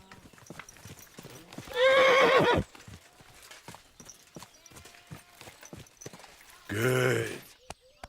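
Video game horse: steady hoof clopping in a regular walking rhythm, broken by two loud horse whinnies, one early and one near the end.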